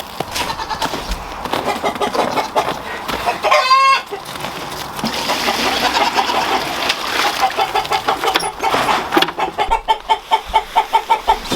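Chickens cluck repeatedly close by on a farm in cold weather, with a rooster's crow breaking in early on and a rapid run of clucks near the end, amid farmyard background noise.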